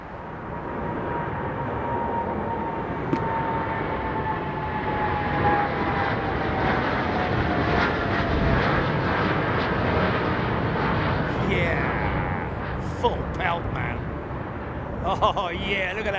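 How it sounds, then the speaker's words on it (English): A WestJet airliner makes a long takeoff run after an intersection departure at London Heathrow Airport, its engines a steady, broad roar that holds for a long stretch at a distance while voices talk over it. "look at this long run for Westjet because he did an intersecting departure"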